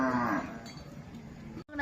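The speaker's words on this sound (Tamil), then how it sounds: "மாடு அப்படியே கட்டினே கிடக்குது" A tethered cow moos in a rural village setting, a single drawn-out low call at the start that fades into ambient outdoor noise.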